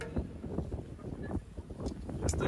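Gusty wind at a rocky beach in Malta buffets the microphone in uneven rumbling bursts, with a faint wash behind; no voices are heard.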